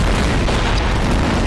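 Explosion in the sandbox video game Garry's Mod, a loud, full-band blast that fills the short moment at close range with heavy low rumble and no clear voices.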